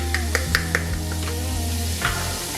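Chopped onion and celery hit melted butter in a pot, giving a soft, steady sizzle with a few sharp clicks of a utensil stirring against the metal.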